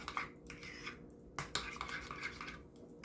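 A spoon stirs honey into yogurt in a bowl, giving soft, quiet clinks and scrapes at an irregular pace, close by.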